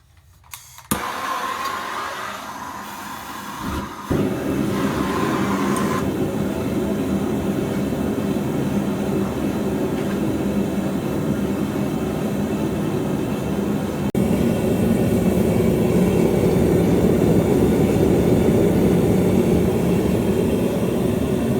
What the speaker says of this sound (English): Okay, so I got the forge on.